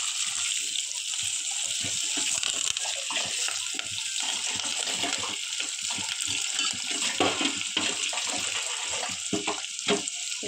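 A pan of homemade hair oil with leaves in it bubbles hard: an unbroken, close hiss of bubbling and sizzling with a wet, watery texture and no talk.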